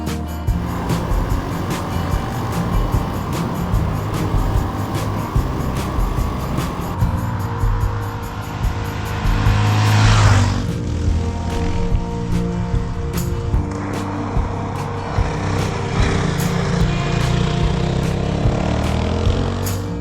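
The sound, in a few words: motorcycle riding on gravel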